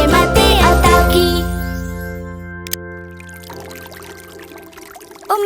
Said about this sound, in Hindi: उमर भाई, नल बंद कर दें, आप पानी जाया कर रहे हैं।